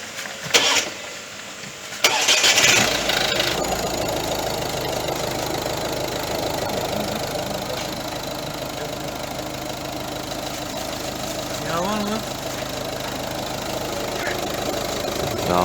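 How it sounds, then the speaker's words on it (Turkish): A car engine, in a car with oil in its coolant, cranks briefly and catches, then settles into a loud, steady idle that runs on, close to the microphone. "Arabayı çalıştırayım."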